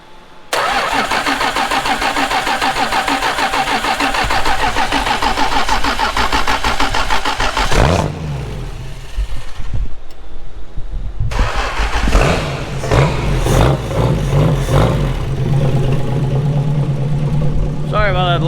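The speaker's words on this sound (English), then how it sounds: "We've got the engine running." A 1973 Duster's engine runs steadily and fairly close, with a dense, continuous mechanical roar. It drops off briefly midway, then comes back to a lower, steady running note.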